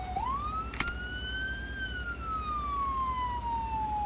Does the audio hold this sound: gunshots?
no